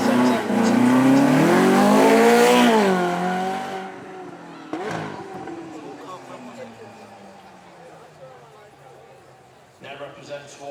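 A Ferrari California V8 sweeps past at a supercar weekend event, its engine swelling loudly as it nears, pitch sliding down as it recedes, then fading into distant traffic and a brief later rev.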